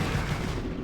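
Dense, rumbling weapon fire from a StarCraft game battle fills the whole short moment, loud and continuous, like a photon cannon blasting away.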